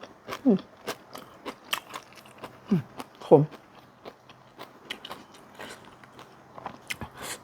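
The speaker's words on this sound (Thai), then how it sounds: "เรามากินสะเดาดินกัน" Someone bites into raw, bitter sadao din greens up close, making several crisp crunching bites followed by softer, wet chewing and scraping mouth noises at an uneven pace.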